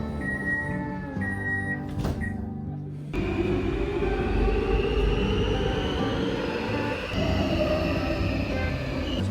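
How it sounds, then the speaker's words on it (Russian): A Warsaw metro train arrives with a rising rumble, short tonal squeals giving way to a loud, sustained roar of wheels and carriages on the track filling the underground station. "Так как я обожаю метро, я также спустилась в метро Варшавы"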